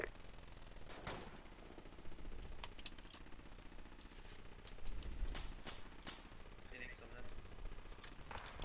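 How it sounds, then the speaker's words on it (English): Gunfire in the military game Arma, sporadic distant shots and short rattling bursts at low level over a steady background, with voices talking throughout. "we're taking fire from the other side now as well"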